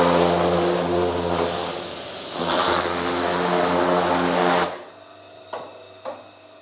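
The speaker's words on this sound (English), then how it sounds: "So it's time to actually get it off with the high pressure cleaner." A high pressure cleaner blasts dried degreaser off a rusty truck frame: a loud, close, steady spray hiss over a humming motor for about four and a half seconds, then it cuts off, leaving quiet with a couple of sharp knocks.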